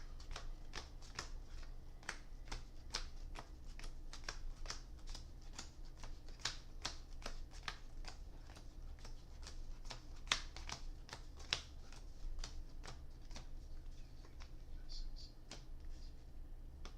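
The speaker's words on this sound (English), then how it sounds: "Just half shuffles should be fine." A deck of cards is shuffled in repeated half shuffles at a table, each riffle a quick run of crisp, fluttering clicks, close but soft over a low steady hum.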